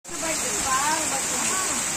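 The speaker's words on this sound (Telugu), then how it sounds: "వర్షం స్టార్ట్" Rain begins during an outdoor gospel meeting, a steady close hiss of falling water that starts suddenly and continues under a voice.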